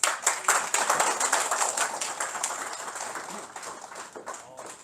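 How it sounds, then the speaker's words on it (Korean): A crowd applauds with dense, steady clapping that starts loud and gradually tapers off. "박수 한번 부탁드립니다"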